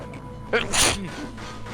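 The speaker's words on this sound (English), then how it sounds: "I sneezed." A single sharp, close sneeze from a person bursts out over a low background hum during a Samurai Jack: The Amulet of Time game session.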